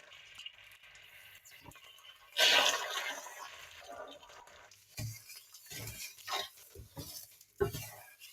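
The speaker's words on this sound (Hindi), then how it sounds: "अब इसके अंदर मैं डालूंगी 2 कप चीनी।" Two cups of sugar pour into a pan for makhandi halwa, a grainy rushing burst lasting under a second, followed by scattered light clinks and scrapes of utensils in a quiet kitchen.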